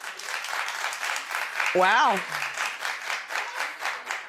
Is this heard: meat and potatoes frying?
no